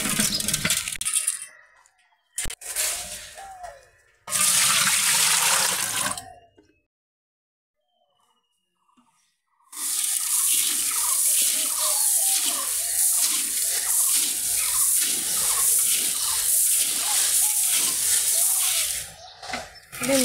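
Boiled paddy is poured out at home with sticks on both sides, making loud rushing, rattling bursts of grain; a long silent gap splits the early pours from a sustained later stream.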